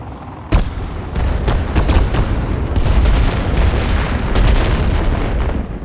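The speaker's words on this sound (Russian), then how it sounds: "Вот это я понимаю выстрел." Repeated heavy cannon blasts in the video game Warface boom over a continuous low rumble, several sharp shots landing close together amid loud battle noise.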